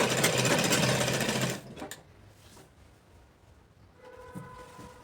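A sewing machine stitches a plazo pant in one fast, loud run of about a second and a half, then stops, leaving only faint handling noise.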